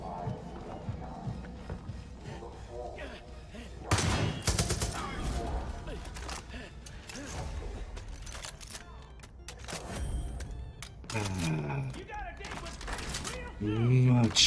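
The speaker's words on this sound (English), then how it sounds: "Oh, that's a shotgun." Shotgun blasts ring out in the video game Far Cry 5, loud broadband bursts among busy in-game combat noise and music, with a heavy shot early and another cluster of blasts near the end.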